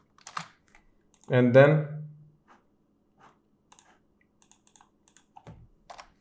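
Light, sparse keystrokes click on a computer keyboard, faint and irregular, around a short spoken phrase from a nearby voice.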